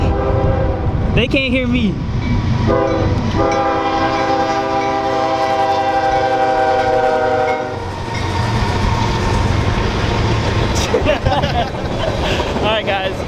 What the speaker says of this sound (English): The train, bro. You think it's too loud?